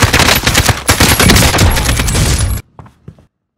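Machine gun fire in the video game Warzone, a loud, rapid, sustained burst for about two and a half seconds, cutting off into a few faint trailing clinks.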